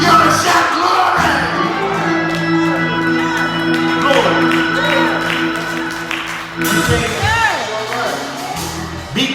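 Church congregation cheering and shouting during a sermon, a loud mix of raised voices, whoops and claps over sustained organ chords, continuous throughout.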